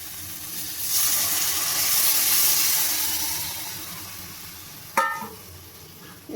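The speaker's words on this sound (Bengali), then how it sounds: "এই মশলাটার মধ্যে আমি যেই বাটিটার মধ্যে মশলাটা রেখেছিলাম সেই বাটিটা দিয়ে জল দিয়ে দেবো" Water pours from a bowl into spice paste frying for a Bengali fish kalia, a broad hiss building and fading over several seconds, followed by a sharp clink and a brief splash near the end.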